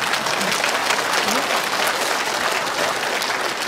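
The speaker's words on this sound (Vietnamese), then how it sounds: "Tôi thấy là các khán giả nam giới thấm ý là cái câu đấy nên vỗ tay hơi to" A comedy-show audience breaks into loud, dense applause that holds steady throughout, a thick sustained roar of many hands clapping together, with faint voices mixed underneath.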